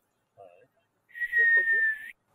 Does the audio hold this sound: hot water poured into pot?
no